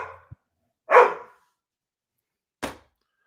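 Dogs barking in separate bursts, a short yip followed by a loud bark and a later sharper bark, with silence between and no voices.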